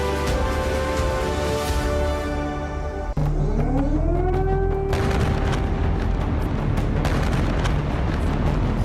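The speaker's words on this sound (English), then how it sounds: "The explosion was really huge because we felt the vibration in this bunker." A huge explosion shakes a bunker with heavy vibration, a loud, dense low rumble running throughout, while a siren-like tone glides upward over it midway and sharp crackling bursts follow.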